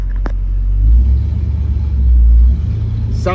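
A 1958 Oldsmobile Ninety-Eight convertible with factory J2 Tri-Power engine idles with a deep close rumble, swelling twice as it pulls away, with a brief click at the start.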